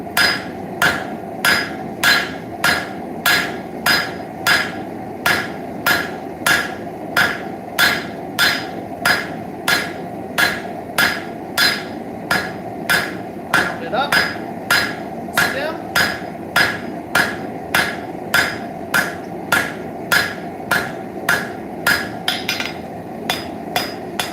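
Steady, evenly spaced hammer blows forge a railroad spike on an anvil, ringing loud and close in a long regular rhythm, drawing out the point and working over the horn.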